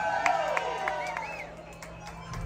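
Concert crowd at an accordion music show at La Lomita, cheering and shouting in a sustained wash with scattered whoops and claps, moderately loud and continuous.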